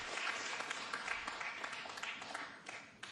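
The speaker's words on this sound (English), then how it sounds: "That brings a smattering of applause" Scattered applause from a billiards crowd at a pool match between Efren Reyes and Pan Xiaoting, a fairly steady patter of clapping of moderate loudness that fades slightly toward the end.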